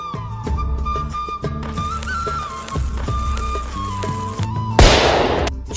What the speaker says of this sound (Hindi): चिंटू छोटू देखा मेरा पटाखा कितनी तेज दगा